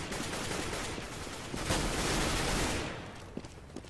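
Rapid gunfire from a sniper rifle and other weapons in a Counter-Strike: Global Offensive match, a dense burst of overlapping loud shots that swells and then trails off into a few scattered cracks near the end.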